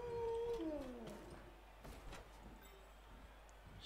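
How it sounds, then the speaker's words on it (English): A werewolf character in a video game gives a rising, wavering howl that fades after about a second, faint and tinny against a soft background hiss. "Sonic the Werehog howls his approval."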